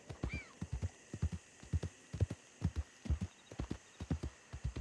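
Horse hooves clatter in a steady clip-clop rhythm in the video game Red Dead Redemption 2, repeated paired hoofbeats close by with a brief whinny near the start.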